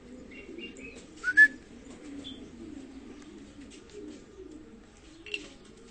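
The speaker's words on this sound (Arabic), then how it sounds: "لسه هاي أول مرة الحمام بتطير" Young pigeons on their first flight coo softly and steadily nearby, with a few thin whistles and chirps and one brief louder flutter or call standing out above the low murmur.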